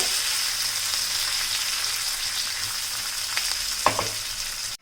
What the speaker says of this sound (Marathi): याला एक दोन मिनिटं लागतील हे छान परतून घेते